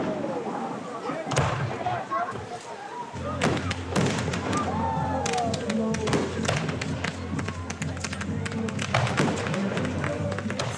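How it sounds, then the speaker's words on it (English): Fireworks from an $8,000, ten-minute show burst in the sky, with irregular sharp cracks and thuds, some close together and some spaced apart, over steady crowd noise and voices. "After a 12-person conga on the water slide, the fireworks begin."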